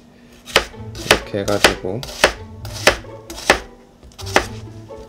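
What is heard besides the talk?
knife slicing ingredients for tartiflette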